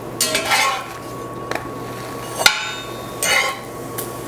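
A spatula flips whole wheat pita flatbread in a pan, with a few scattered metallic clicks and scrapes, one sharper tap near the middle, and no talking.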